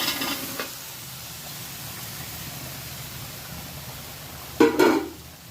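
Boiled tapioca is tipped into a hot pan for kappa biryani, giving a brief clatter at the start, then a quiet steady hiss, then a sharp loud scrape and sizzle near the end.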